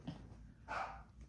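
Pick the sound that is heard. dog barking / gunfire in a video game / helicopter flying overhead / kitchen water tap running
dog barking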